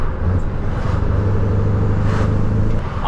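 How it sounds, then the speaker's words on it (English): A customised truck's diesel engine revs briefly as the driver rev-matches a downshift through half gears, a steady low rumble that holds close and loud for about three seconds with no talking. "let's try and rev match on a downshift"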